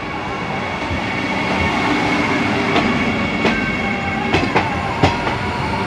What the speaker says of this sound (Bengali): Train number 22302 new Jalpaiguri Howrah Vande Bharat express, মানে এখন নিউ জলপাইগুড়ি থেকে হাওড়ার দিকে আসছে আর কি।